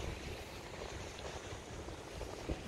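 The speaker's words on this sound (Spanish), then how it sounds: "Mira cómo está el mar." Sea waves and wind on a beach, a faint, steady wash of surf with blustery wind buffeting the microphone and a small thump near the end, no voices.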